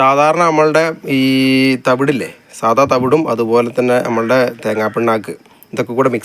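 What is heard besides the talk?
None of the usual background noises is heard.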